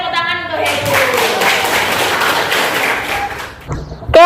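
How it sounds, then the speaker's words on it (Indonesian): Students in a high school classroom clap for a classmate, a dense burst of applause lasting a few seconds before a voice speaks again. "Oke, tepuk tangan untuk Heru"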